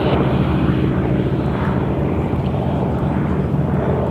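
A big Wright R2600 radial aircraft engine of 1,900 horsepower roars in a loud, continuous, heavy drone, close and unbroken throughout.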